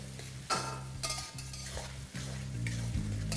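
Sliced onions stirred in a hot pan over high flame, a steady sizzle broken by several scraping strokes of a spatula against the metal, close and fairly quiet.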